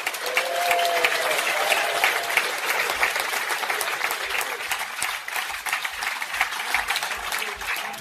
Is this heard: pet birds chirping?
no